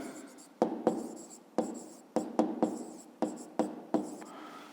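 Handwriting on paper during a fifth-grade maths exercise, with a series of crisp pen taps and short scratchy strokes coming in bursts, close and clear, while a voice talks.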